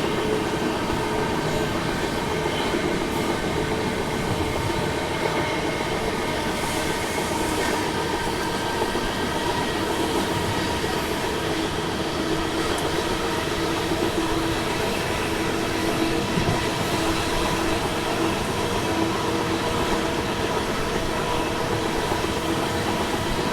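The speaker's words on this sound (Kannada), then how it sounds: "ಇದು ಬಂದ್ಬಿಟ್ಟು ತಿರುವನಂತಪುರಂ ನಾರ್ತಿಂದ ಕೋರ್ಬಾಗೆ ಹೋಗುವಂಥ ಸೂಪರ್ ಫಾಸ್ಟ್." A superfast express train bound from Thiruvananthapuram North to Korba passes by loud and close, its steady rumble of carriages and rail clatter holding unbroken for more than twenty seconds.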